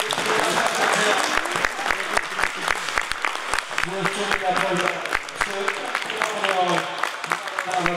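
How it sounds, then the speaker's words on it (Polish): Applause at an ice rink in Puszczykowo: dense, steady clapping from a crowd lasting the whole clip, with sharp individual claps standing out and some voices mixed in underneath. "brawa."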